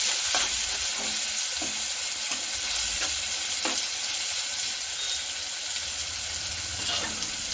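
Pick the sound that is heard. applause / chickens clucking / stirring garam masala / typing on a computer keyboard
stirring garam masala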